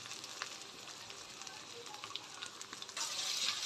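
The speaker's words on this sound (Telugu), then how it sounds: "అల్లం వేసుకొని బాగా కలుపుకోవాలి" Fried onions with ginger and turmeric in a pan for chicken biryani, a faint continuous sizzle and frying crackle with light stirring, the hiss growing louder near the end; no one speaks.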